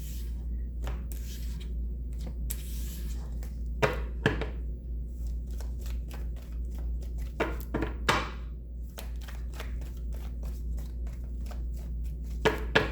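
Tarot cards riffled and tapped in irregular bursts of crisp slaps and flutters, close up over a steady low hum, no voices.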